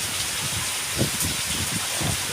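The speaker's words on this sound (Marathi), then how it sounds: "बघा आता काय पाऊस चालू झाला" Steady rain falls around a farm village during the monsoon sowing season, a dense even hiss with soft low patters and occasional heavier bursts, close and continuous with no voices.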